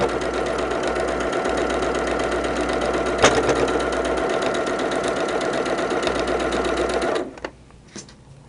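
A sewing machine runs a long, steady stitching stretch on a quilt block, a close rapid mechanical whir that stops abruptly near the end, with a few small clicks after.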